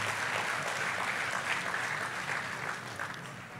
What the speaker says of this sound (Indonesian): Kita beri tepuk tangan bagi Yesus Tuhan kita.